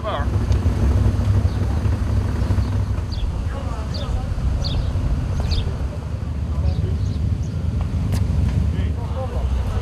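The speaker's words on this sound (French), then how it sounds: "Et là, il y a du vent." Strong wind roars and buffets during a Can-Am rally drive through the Moroccan desert near the Merzouga dunes, a constant loud rush that stays heavy throughout.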